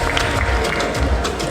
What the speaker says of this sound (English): A round of applause for her and both ladies.